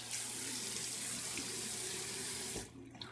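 Tap water running steadily into a sink for a final rinse after a shave, close and even, stopping abruptly near the end.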